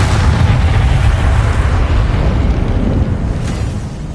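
Confringo blasting spell exploding in Hogwarts Legacy, a loud, heavy rumbling boom that fills the moment and slowly tails off.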